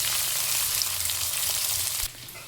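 Thinly sliced onion and a dried red chili fry in hot oil in a pan, a dense steady close sizzle that drops abruptly quieter near the end.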